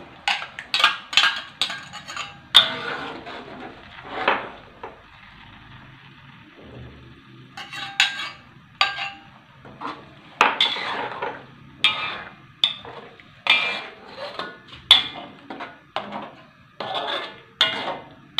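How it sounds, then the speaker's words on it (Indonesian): A metal spatula repeatedly scrapes and taps a pan while chili paste and spices are sautéed for a red quail curry, sharp clinks in an irregular rhythm, close and fairly loud with no talking. "Ini saya nak tumis sampai kering sahabatku ya."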